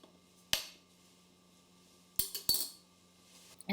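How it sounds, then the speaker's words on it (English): A knife cuts paneer into 1-inch cubes on a board, giving a few isolated sharp knocks and clicks spaced apart over a quiet background hum. "Then we cut them into 1-inch cubes."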